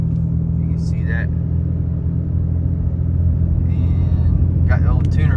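A Ram 2500 Cummins diesel pickup, running tow/haul mode with its Jake brake on auto and towing a large camper, gives off a steady low road rumble and engine drone.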